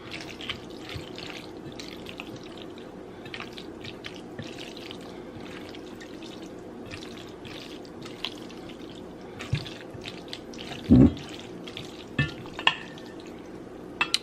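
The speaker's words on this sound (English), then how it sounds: "Then I'm just gonna add more sauce. Then mix it all around." Sauce being stirred into mac and cheese, a soft wet squelching and scraping that repeats steadily at close range, with a few louder clinks and knocks of the utensil against the pot.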